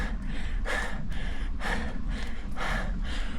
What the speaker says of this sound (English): Panting is one thing, that's like fine, like right now.